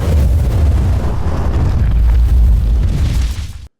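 A fire sound effect for a big dragon scene surges as a deep, loud roaring rumble, heavy in the low end, sustaining for over three seconds before cutting off abruptly.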